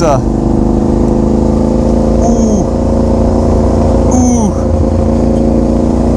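Audi R8 sports car driving past, a loud steady engine roar filling the whole clip with two pitch sweeps as it passes, with voices over it.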